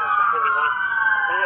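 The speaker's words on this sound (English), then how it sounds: "Oh, you can turn your fucking sirens off" Police car sirens wail loud and close with a steady rising tone, near the scene of a shooting response in Las Vegas, heard alone without talk.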